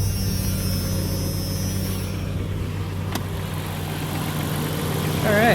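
1995 Jeep Cherokee engine idling after a starter replacement, a steady low hum close by, with brief faint clatter partway through.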